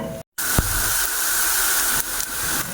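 Ham heating in a hot pan gives off a steady, close sizzling hiss that continues after a brief cutout and a soft clatter, with no talking.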